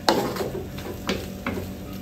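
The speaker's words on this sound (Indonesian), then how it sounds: "Kita goreng-goreng macam goreng sayur biasa" Cassava leaf pekasam frying in a pan, a low steady sizzle with a few sharp scraping stirs of a utensil, close up and without talk.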